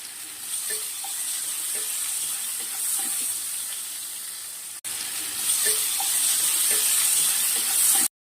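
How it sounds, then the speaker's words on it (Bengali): Potatoes frying in a pan for a Bengali fish curry, a steady broadband sizzle running close and continuous with small scattered clicks and a brief break near the middle, no voices. "বন্ধুরা, আলুটা ভাজা হয়ে গেছে"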